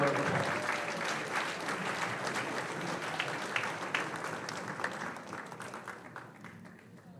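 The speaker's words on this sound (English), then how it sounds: "another round of applause" A crowd at a high school varsity athletic banquet applauds an honoree, warm continuous clapping that holds steady then gradually fades out over about seven seconds.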